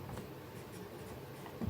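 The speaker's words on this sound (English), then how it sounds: "now we'll write the notes of D sharp major" A pen writes out musical notes on paper in short, faint scratching strokes, ending with a slightly louder touch, with no voice heard.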